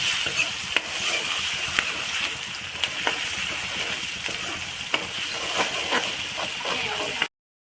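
Sabudana khichdi with chillies sizzles steadily in a frying pan while a spoon repeatedly scrapes and stirs through it, producing close, continuous frying hiss punctuated by sharp clinks.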